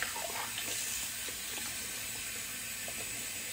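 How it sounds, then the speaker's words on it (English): Tap water runs steadily into a sink while a shaving brush is rinsed under it, a soft continuous splashing hiss with small irregular spatters, faint and close, with no voices. "Wash this brush out"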